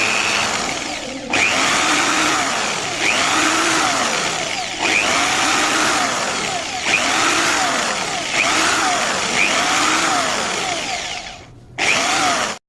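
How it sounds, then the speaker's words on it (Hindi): An electric drill boring a hole, heard as repeated whirring bursts of a few seconds each that rise and fall in pitch with short pauses between them, close and loud with no talk. "अब यहाँ पर मैं इस प्रकार से छेद कर लेता हूँ।"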